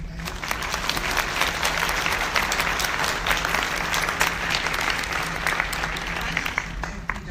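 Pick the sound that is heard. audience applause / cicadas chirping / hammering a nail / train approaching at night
audience applause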